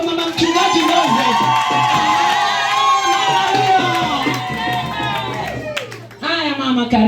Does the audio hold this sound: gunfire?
no